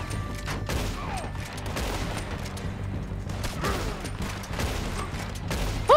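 Gunfire during a shootout in the video game Red Dead Redemption 2, a dense, continuous mix of shots and mechanical clatter over a low rumbling background, with no clear talk.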